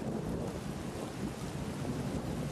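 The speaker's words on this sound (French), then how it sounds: "Il pleut des cordes dehors." Steady heavy rain from a thunderstorm pours down with a low rumbling undertone, a continuous wash of noise outdoors, with no voices.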